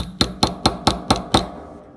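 A hammer strikes a gear onto an axle six times in a steady, even rhythm, each tap sharp, close and loud, with no talking.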